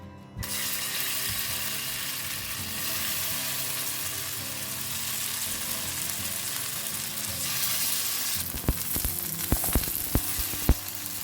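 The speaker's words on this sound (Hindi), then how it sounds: "पळय थोडो ऑयल घालया आनी पनीर, कॅप्सिकम आनी कांदो एका फ्राय करून घेवया" Paneer, capsicum and onion frying in oil in a kadai for restaurant-style paneer tikka masala make a steady, fairly loud sizzle that continues throughout, with sharp clinks and scraping near the end.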